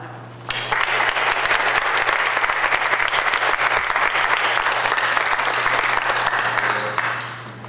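A symposium audience claps steadily, with sustained, loud applause that swells quickly, holds, and then tapers off at the end as a keynote speaker is welcomed.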